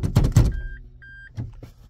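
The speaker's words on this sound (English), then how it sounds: "we have 2 short beeps" A Toyota dashboard gives two short electronic beeps, evenly spaced and clear, during a semi-automatic robotized gearbox calibration. Brief mechanical clunks come before and after them.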